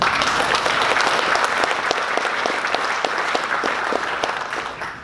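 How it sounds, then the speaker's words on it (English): An audience at a hail industry awards ceremony, International Hail Expo 2019, claps in sustained, dense applause for about five seconds, then it fades at the end. "You can clap for it."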